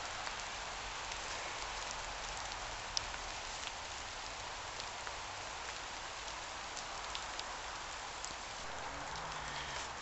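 Steady rain falls on a bushcraft camp where a teepee is being built, with a dense, even patter and a few louder drops striking nearby surfaces, continuous and moderately close.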